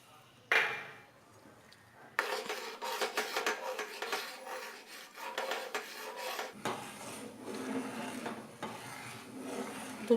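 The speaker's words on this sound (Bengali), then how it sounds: "দিয়ে দুধটা ভালো করে নেড়ে দেবো।" A spoon stirs and scrapes through milk with khoa in a metal pan, a steady rasping, rubbing sound that runs close and continuous for most of the stretch after a short quiet opening.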